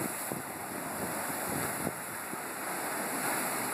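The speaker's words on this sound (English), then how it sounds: "it gets there by these big splashing waves that hit the bank" Big waves on Lake Champlain splash against the bank in a steady, loud roar of surf with occasional sharper slaps, heavily mixed with wind buffeting the microphone.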